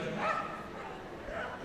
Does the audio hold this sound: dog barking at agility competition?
yes